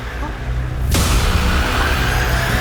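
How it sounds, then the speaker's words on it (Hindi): A single sudden gunshot blast in a Hindi crime drama hits at about one second and gives way to loud, sustained rumbling noise that fills the rest of the clip. "ये तो गोली चलने की आवाज"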